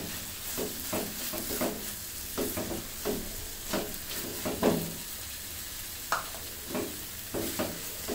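Grated carrot halwa being stirred dry in a pan, a soft sizzle beneath regular scraping and tapping strokes of a spoon against the pan, repeating every second or so, no voices.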